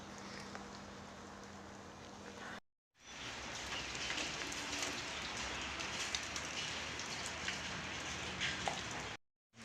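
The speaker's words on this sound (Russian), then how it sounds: "Дождь все не прекращается." Steady rain falls on a bamboo forest in China, a dense continuous hiss with two brief dropouts into silence and no voices.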